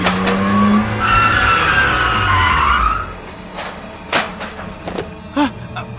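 A car races by with a high tire squeal that rises and fades over about three seconds, followed by a few sharp knocks and thuds, loud and close in a dramatized sound effect.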